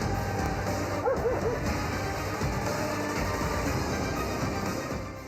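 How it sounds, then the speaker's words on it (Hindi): Stray dogs bark and yip in a street in Faisalabad, a few short calls standing out early over a steady, noisy outdoor background that continues throughout. "फैसलाबाद में आवारा कुत्तों का राज।"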